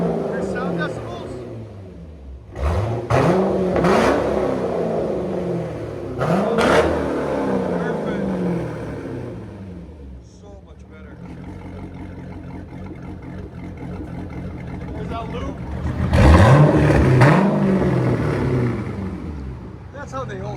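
A straight-piped, cammed Chevrolet Corvette with a 6.0L V8 revs loudly and close in three sharp bursts with a lumpy idle between, the last rev the strongest, while voices talk over it.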